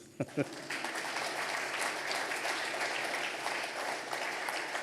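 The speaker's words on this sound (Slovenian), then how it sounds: "En aplavz, prosim." Audience at a municipal holiday awards ceremony breaks into steady, dense applause after two sharp opening claps, sustained and fairly loud throughout with a hint of crowd murmur.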